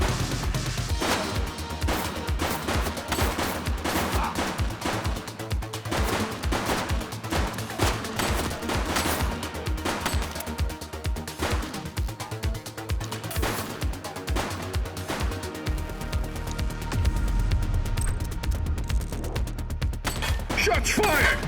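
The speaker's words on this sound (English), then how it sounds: "Shots fired!" Gunfire in the police video game The Precinct: dense, repeated bursts of rapid shots and crashing impacts, loud and close, continuing throughout with brief gaps.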